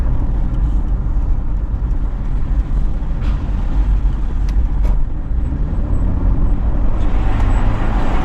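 Subaru Forester driving on a Kenyan highway, heard from inside as a steady loud road and engine rumble with tire noise and a few faint clicks and passing sounds.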